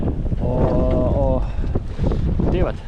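Cold wind gusting at sea near a boat, rushing and buffeting the microphone in uneven surges, with a brief tonal creak or horn-like sound partway through.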